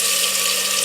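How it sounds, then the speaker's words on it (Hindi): Water pours into a pot of fried chicken while degi chicken is being cooked, a steady, close rushing splash that runs unbroken for under a second with no talk. "अब पानी डालेंगे इसमें गलने के लिए।"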